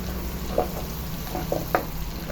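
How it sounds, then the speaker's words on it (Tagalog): Ingredients being sautéed with pepper for sinantulan hiss steadily in the pan, broken by three or four quick spatula knocks. "Nilalagay ko na yung paminta sa ating ginigisa na ingredients para mas bumango siya."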